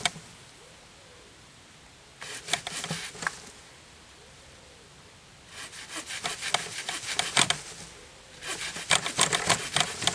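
A hand saw cuts through wood for a bow stave in three bursts of quick, rasping back-and-forth strokes, close and fairly loud, with quiet pauses between the bursts.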